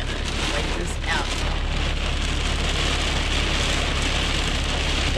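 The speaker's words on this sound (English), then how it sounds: "The wind's blowing pretty bad and the rain is pretty bad." Heavy storm rain pounds steadily on a truck, a dense, continuous roar with wind, loud and unbroken throughout.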